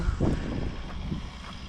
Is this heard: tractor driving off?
yes